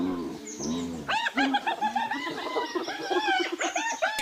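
Hyenas on the African savanna call in a run of rising and falling, giggling whoops, close and fairly loud, with a lower call at the start.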